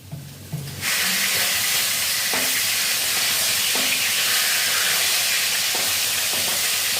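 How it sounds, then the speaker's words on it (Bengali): A pot of fish curry made with soft bhola fish bubbles and steams on the stove, a loud, steady broadband hiss that starts abruptly and holds throughout, with faint clinks underneath. "মাছের ঝোলটা ফুটছে।"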